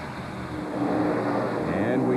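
NASCAR stock cars race at Michigan in the 1999 Pepsi 400, a continuous engine roar rising in pitch as they pass under a commentator's voice.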